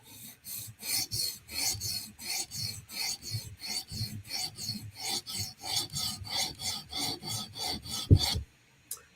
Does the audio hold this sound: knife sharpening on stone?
yes